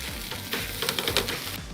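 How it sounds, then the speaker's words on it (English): Washed day-old jasmine rice sizzles loudly in a hot pan with a dense, continuous frying hiss and a few crackling stirs, close and without talk. "Day old jasmine rice. Wash it first. Listen to it sizzle."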